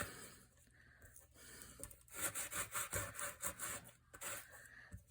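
Hand sanding scratches back and forth in a quick, even rhythm of rasping strokes, close and fairly quiet, after a few softer rubs.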